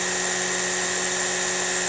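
Husqvarna 525iLXT battery line trimmer running at 7,200 rpm, giving a steady, unbroken high-pitched electric whine with a tonal hum beneath, heard alone and close.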